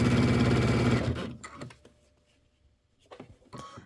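Sewing machine stitching a quilt join for a Christmas wall hanging, a loud steady mechanical whir for about a second, then it stops, leaving faint handling clicks and rustles.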